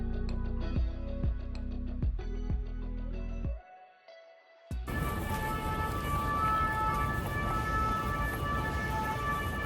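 An emergency siren wails on a Paris street, its steady tones rising after a brief hush and sounding fairly loud amid city traffic noise.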